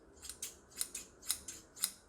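Pair of oiled antique shears opening and closing, a rhythmic series of crisp metallic snips and slides, about seven strokes close by with no talking.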